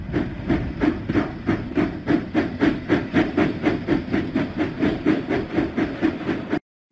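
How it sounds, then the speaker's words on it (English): A cartoon steam locomotive in a Thomas and Friends children's game chuffs along in a steady, rapid rhythm of loud, evenly spaced puffs, close and alone, before cutting off abruptly. "James is arriving at Tidmouth Sheds right on time, thanks to your help."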